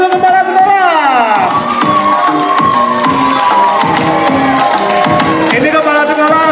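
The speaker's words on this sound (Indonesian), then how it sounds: "Tepuk tangan untuk kepala sekolah" At a Heroes' Day school fashion show, an audience cheers and applauds for the school principal: loud, close crowd shouts and clapping, with a voice and music running through.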